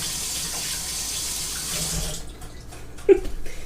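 Water pours steadily from a kitchen sink tap, then stops partway through, leaving a few clinks and splashes as something is rinsed and handled near the basin.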